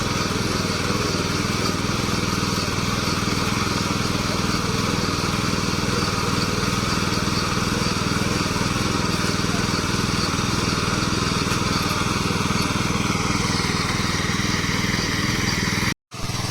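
A new plowing machine's engine runs steadily nearby on a farm, a loud continuous mid-pitched drone like a small motor that holds constant throughout before cutting out abruptly at the very end.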